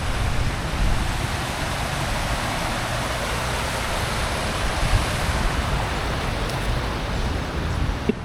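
A river in Cuenca flows in a steady broadband rush, loud and continuous, with light wind buffeting and no voices.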